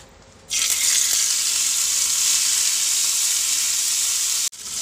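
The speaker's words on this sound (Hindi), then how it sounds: "ये गैस पे चढ़ा दी हूँ मैंने पैन इस पर मैंने तेल ऐड कर दी हूँ अब इस पर हम चिकन डाल देंगे" Chicken frying in hot oil in a pan on a gas stove: after a brief quiet moment a loud, steady, close sizzle bursts in and holds evenly, then cuts off sharply just before the end.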